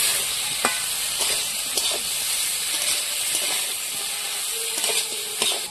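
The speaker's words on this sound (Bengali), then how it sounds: "মশলার সাথে আর মাছ আমি একটু ভালো করে কষিয়ে নিলাম 2 মিনিট" Fish cooks in a pan with ground spice paste, giving a steady hissing sizzle close by, punctuated by a few light stirring scrapes and taps, and no voices.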